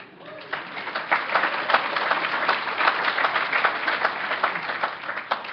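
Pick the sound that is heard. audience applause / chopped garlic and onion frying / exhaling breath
audience applause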